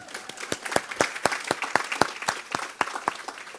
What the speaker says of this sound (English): I think we can go for another round of applause.